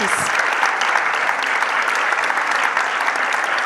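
A steady wash of dense audience applause fills a French round-table opening evening, loud and continuous throughout with no break.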